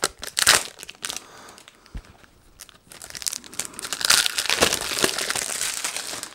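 Packaging being unpacked from an Amazon Fire TV box: close, loud crinkling and tearing of cardboard and plastic in irregular bursts, with a brief quiet pause midway before heavier rustling resumes.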